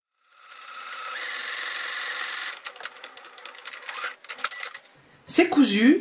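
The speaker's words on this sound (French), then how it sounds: "Et maintenant, avec la machine à coudre," A sewing machine stitches a seam in fabric for a plush toy, running as a steady close whir and then a few shorter bursts, with a voice talking at the end.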